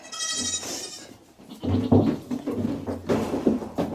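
Nigerian goats bleat several times, a high wavering call first, then lower bleats mixed with rustling and shuffling close by.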